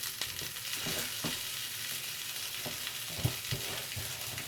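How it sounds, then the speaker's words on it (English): Sliced paprika frying in a pan, giving a steady broadband sizzle with occasional soft stirring scrapes and taps throughout. "we're going to have to bake some paprika slices as well"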